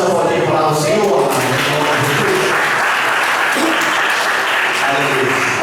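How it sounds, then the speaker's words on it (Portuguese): A church congregation applauds during a sermon, a loud, sustained wash of clapping that fills the whole stretch without a break. "Vamos aplaudir a palavra do Senhor."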